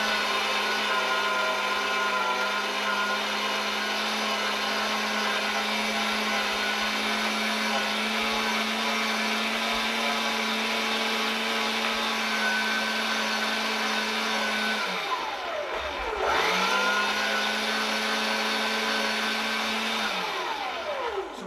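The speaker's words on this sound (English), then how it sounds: "So last quail going through the grinder now." An electric meat grinder grinding whole quail, a steady loud motor whine with a constant hum that drops out and strains around fifteen seconds before spinning back up to full speed.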